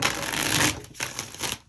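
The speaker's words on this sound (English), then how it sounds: "while I'm shuffling these tarot cards" A deck of tarot cards being shuffled up close, a dense papery riffling rush that breaks into a few shorter bursts.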